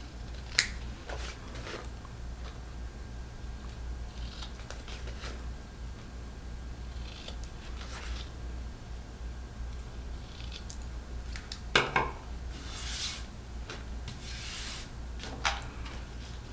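Scissors trim bulk from the fabric corners of a mask pouch, giving a few close, crisp snips and rustles scattered irregularly over a low steady hum.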